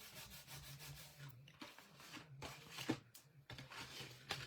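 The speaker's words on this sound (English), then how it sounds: "Now I like to go on the back and give it a good rub." A hand rubs firmly across the back of a folded paper craft, a quiet close scratchy swishing in repeated strokes with brief pauses between them.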